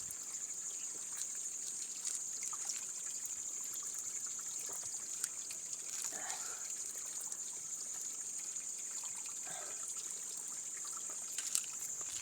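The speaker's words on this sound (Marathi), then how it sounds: "ह्या खडकातून पाणी निघत इथनं एक नंबर पाणी निघतं" Water trickles steadily out of a rock spring outdoors, a faint, continuous thin dribble with a few small splashes, heard alone without talk.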